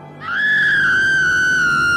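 A witch lets out a single loud, shrill scream that rises and holds as one sustained high-pitched wail for nearly two seconds, close and alone.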